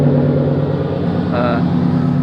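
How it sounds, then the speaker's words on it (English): A truck engine idles steadily after starting, a loud, even low hum with a droning tone, and someone speaks briefly over it. "Truck starts right up"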